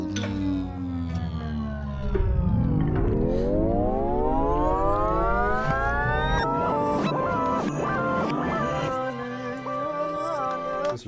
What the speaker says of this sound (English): I really like the sound of the slowing down effect from Logic